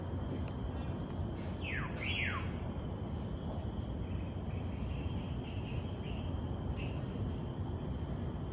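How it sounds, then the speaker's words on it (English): Two short descending whistled calls from hill mynahs ring out in Gillman Forest, Singapore, standing clear above a steady wash of insect and ambient forest noise, with a fainter call later on. "Can you hear the sound of the hill mynahs?"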